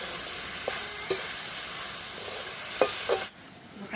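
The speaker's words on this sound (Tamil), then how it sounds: "தக்காளி பழம், கறி மிளகாய், வெங்காயம் எல்லாம் வடிவா வதங்கி கொண்டு வருவேன்" Tomato, green chili and onion sautéing in a pan for Jaffna-style chicken devil, a soft steady sizzle broken by a few scraping stirs of a spoon against the pan, with no voices.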